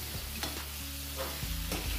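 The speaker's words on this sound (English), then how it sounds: "We're just stirring the pot here a bit." Chicken stir fry is stirred in a pot, with a spoon scraping and clinking against the pot over a soft sizzle, close and steady for a couple of seconds.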